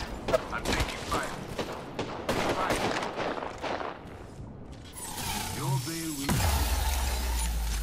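Rapid gunfire in the battle game Apex Legends, a dense burst of close shots over the first half, then a lull followed by whooshing, warbling mechanical effects and a low rumble near the end.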